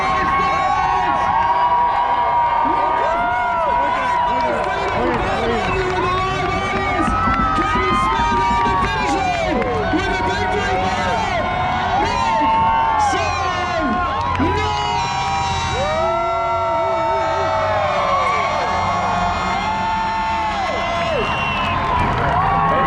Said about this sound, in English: getting the crowd hype. Make some noise.